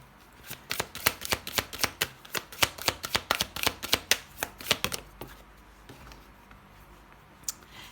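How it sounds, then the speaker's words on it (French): A deck of oracle cards is riffled and shuffled in a quick rapid burst of crisp flicks for about five seconds, followed by quieter handling as a single card is drawn; no one speaks. "on va prendre une deuxième carte avec l'oracle Histoire de sorcière"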